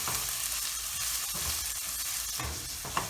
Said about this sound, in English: We're going to saute this so the onions get to be a more translucent or clearer than what they are.